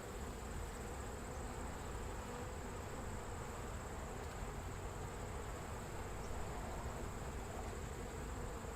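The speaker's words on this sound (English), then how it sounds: "The bees fall over and into the cup." Honey bees, mostly nurse bees, buzzing faintly in a cup during an alcohol wash mite test, a soft continuous hum under steady background hiss.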